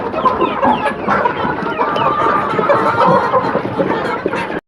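Egg-laying hens in a commercial poultry coop cluck steadily and loudly, a dense overlapping chorus of many birds with no talk over it.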